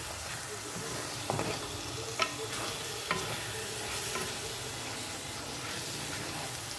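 Masala with coriander powder fries in a pan for Malabar egg curry, a steady sizzle under repeated spatula stirring with a few sharp scrapes and clicks against the pan, and no talking.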